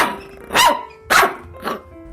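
A spaniel dog gives three separate barks spaced about half a second apart, loud and close, the last one softer, with quiet gaps in between.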